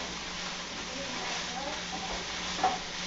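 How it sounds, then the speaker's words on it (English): Silicone mold mixture (Dragon Skin) being stirred in a container, a soft continuous scraping and swishing under a low background hiss, with one brief louder clink near the end. "try and stir a little more"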